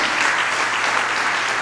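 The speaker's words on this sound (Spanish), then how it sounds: "dele palmas al Rey" A church congregation claps for the King during a sermon, a dense, steady burst of many hands applauding together, loud and close without a break.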